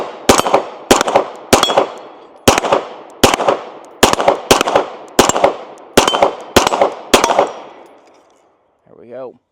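An Atlas Titan RDS 2011 in 9mm fires about eleven loud, sharp shots at a quick irregular pace outdoors on a range. Each crack rings briefly, and a short voice follows after the last shot.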